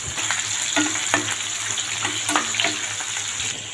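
Chopped raw onion and cumin seeds hit hot oil in a pan for banana flower gravy, crackling and sizzling steadily up close with sharp spatters and pops scattered through the hiss.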